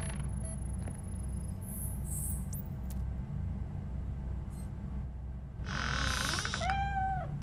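A cat in RoboCop: Rogue City lets out a short, high meow near the end over a steady low hum, after some faint chirps and electronic tones earlier.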